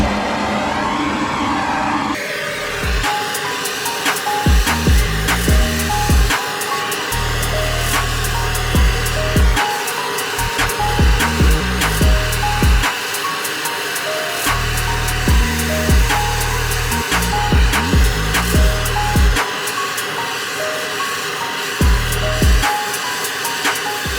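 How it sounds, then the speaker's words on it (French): Blowtorch flame roaring steadily against a dented, pressurized Suzuki RM 125 two-stroke exhaust pipe, a loud continuous hiss with rhythmic knocking and clattering bursts layered through it, no talking. "avec un chalumeau, je chaufferai au niveau des bosses pour essayer qu'elles ressortent"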